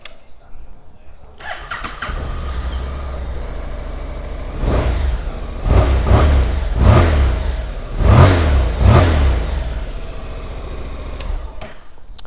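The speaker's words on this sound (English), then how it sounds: "Look, I'll give it a start up so you can have a listen to it." A 2013 Honda NC700XA DCT parallel-twin motorcycle starts with a brief crank, settles into a low, fruity idle, then takes several sharp throttle blips before dropping back to idle and cutting off.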